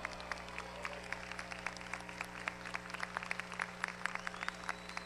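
Applause at an Italian music festival ceremony as the third-place winner receives her trophy: steady crowd clapping throughout, dense and fairly distant, with a low hum underneath.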